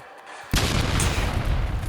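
A power core detonates inside a Garry's Mod Halo roleplay game, a sudden loud blast that hits after a short quiet lead-in and rolls on as a sustained, heavy rumble.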